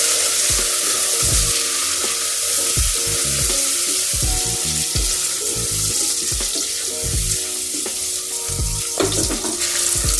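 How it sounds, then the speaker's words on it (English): Vegetable pulao ingredients, onion among them, frying in oil inside a pressure cooker, with a steady close sizzle broken by repeated clanks and scrapes of stirring. "And now fry it nice and thoroughly till it gets rid of its raw flavor."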